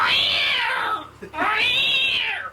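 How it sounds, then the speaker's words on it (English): A female cat in heat meows in a studio control room: two long, loud, drawn-out yowls close to the microphone, separated by a brief pause. "we're gonna have to get that cat out of the control room."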